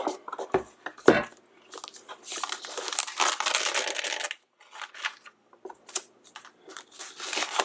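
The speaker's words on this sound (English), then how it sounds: "And let's take off the fancy plastic." Plastic film wrapping is peeled and crinkled off a 2018 6-core Mac mini, with close, irregular bursts of crackling and rustling separated by short pauses, with no talk over it.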